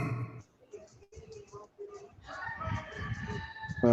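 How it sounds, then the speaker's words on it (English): A rooster crows in the background near the end of a podcast conversation, loud and close at the finish, with people talking over it throughout. "All right, so the rooster is not on my side, just to let you know."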